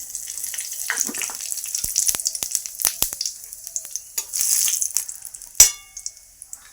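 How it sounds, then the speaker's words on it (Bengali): Cumin seeds, potato and dried chillies tempering in hot oil, a bright close sizzle that flares in bursts, with sharp metallic clangs of a spoon against the pan and one louder hit near the end; no talking. "জিরে, আলু, শুকনো লঙ্কা ফোড়ন দিয়ে দেবো।"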